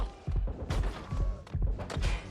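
Gunfire in Watch Dogs Legion, a series of heavy, close, punchy shots in irregular clusters with booming low thumps, loud throughout the short stretch.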